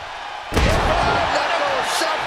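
John Cena's Attitude Adjustment wrestling slam lands as a loud, sudden thud on the ring mat, followed by a roaring arena crowd swelling behind it.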